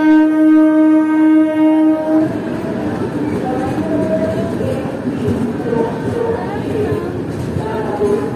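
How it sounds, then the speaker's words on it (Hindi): The Vaishali Superfast Express from Saharsa to New Delhi sounds a long, loud horn blast for about two seconds, then rolls away with rumbling wheels and rail noise while a voice talks over it. "तो निकल चुकी है दोस्तों वैशाली सुपर फास्ट एक्सप्रेस,"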